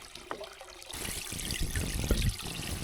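A small solar-powered water fountain pump splashes and gurgles nearby, starting after a brief quiet moment and then continuing as a steady bubbling spray.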